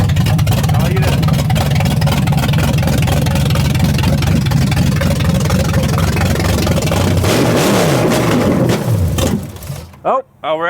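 High school drag car engine, loud and continuous, running near the mic for most of the stretch, then sputtering and cutting out toward the end.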